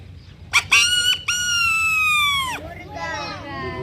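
A man imitates a rooster's crow with his voice, giving a few sharp opening notes and then one long, drawn-out, quavering call that trails off into a shorter fading note, loud and close.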